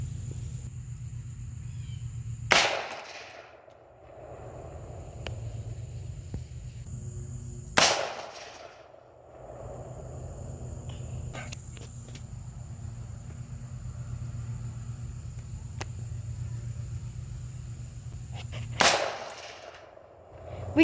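A .223 rifle fires at a steel target 200 yards away, giving three sharp, loud cracks spaced several seconds apart, each followed by a brief rumbling echo over a low background hum.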